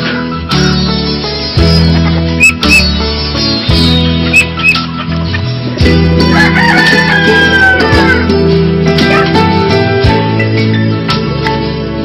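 Roosters crow repeatedly over a busy background of clucking birds, loud and close, with several overlapping calls.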